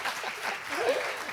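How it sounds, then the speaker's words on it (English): Audience applause for Marilyn at a talk event, a steady, moderately distant wash of clapping filling the short moment without speech. "clap for Marilyn,"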